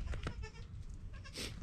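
Baby goats bleat in a barn: a few short, close bleats come in quick succession at the start, then another bleat follows after a pause, over a low room rumble.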